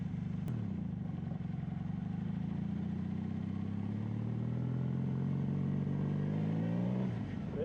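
A 2000 Honda Magna 750 motorcycle runs with a steady mid-pitched engine drone, heard close and constant, its tone rising gradually as the bike rolls on without throttle, with a brief click near the start and a drop near the end.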